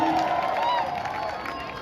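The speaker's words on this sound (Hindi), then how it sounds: "मैं चाहूंगी एक बार जबरदस्त तालियां हो जाएं हमारी प्यारी भारती के लिए" A crowd at the Narnaul Marathon cheers and applauds the winner, a dense, lively din with a raised voice carrying above it.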